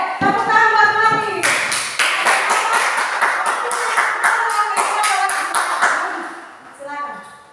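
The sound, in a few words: class clapping for Wati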